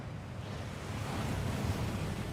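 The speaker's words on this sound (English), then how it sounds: "That waterfall washes away all enchantments." Steady rushing of the Thief's Downfall waterfall inside the Gringotts vaults in the Hogwarts Legacy video game, a continuous broadband wash of falling water with a low rumble, constant and fairly loud throughout with no voices.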